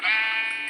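A sheep in a survival video game gives one short, bright, wavering bleat, loud and close, with nothing else heard alongside it.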